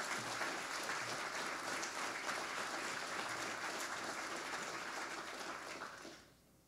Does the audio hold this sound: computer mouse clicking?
no